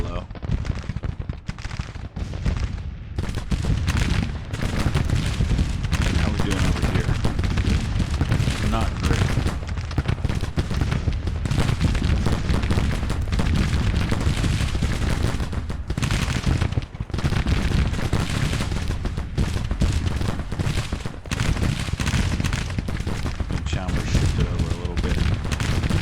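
Batteries of 12-pounder cannons firing in Grand Tactician: Civil War, a dense, continuous roll of booming shots and crackling musketry throughout, loud and sustained, with someone talking over the battle.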